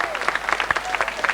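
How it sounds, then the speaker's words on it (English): An audience in the Auckland Town Hall applauds during the 1985 New Zealand Telethon, a dense, continuous patter of many hands clapping close by. "How about a big round of applause for Michael?"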